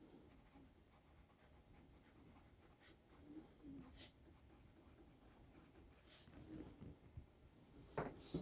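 A Begoody 6B handwriting pencil scratches across a sheet of paper in continuous soft strokes with small pauses, quiet and close.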